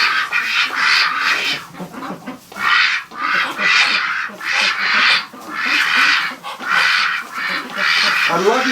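Muscovy and Pekin ducks, drakes and females mixed, keep up a loud, close chorus of raspy quacks in irregular bursts, several birds calling over one another with only brief gaps.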